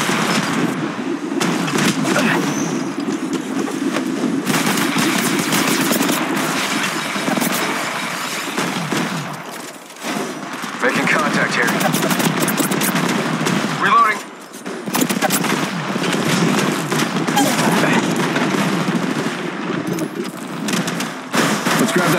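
Machine gun fire rattles in Apex Legends in repeated rapid bursts over several seconds, loud and close, mixed with game voices and other in-game sounds.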